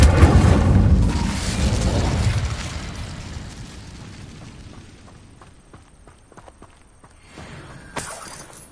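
An Incendio fire spell cast in Hogwarts Legacy erupts as a loud, roaring whoosh of flame that swells in the first couple of seconds, then fades into crackling embers and scattered small clicks, with a brief flare near the end.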